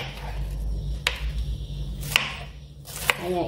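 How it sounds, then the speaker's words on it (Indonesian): Cabbage being cut into small thin pieces for a vegetable filling, a few distinct close knife chops on a board, spaced about a second apart, without talk. "Kemudian sayur kulnya kita potong-potong juga"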